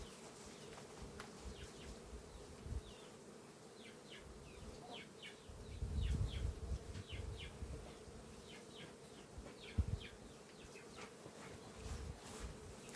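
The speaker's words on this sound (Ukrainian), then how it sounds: "Тут бджоли повно." Honeybees buzz steadily around a hive during an autumn inspection, a continuous hum with occasional close fly-bys and faint handling of frames.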